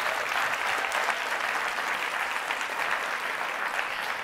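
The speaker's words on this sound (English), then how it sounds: "Can we give her one more round of applause, please?" At an engineering awards ceremony, a large audience applauds an award winner with steady, even clapping that fills the room at constant volume from start to finish.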